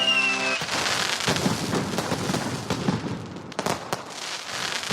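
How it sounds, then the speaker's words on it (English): Fireworks sound effect: a rapid series of loud crackling bursts and pops, dense and continuous, preceded by a brief tonal swell that cuts off sharply. "I'll put fireworks and shit"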